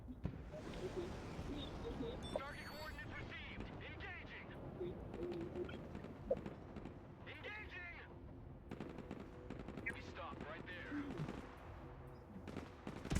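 Machine gun fire in the video game Broken Arrow, rapid crackling bursts layered with distant gunfire and explosions throughout, while a person talks over the battle.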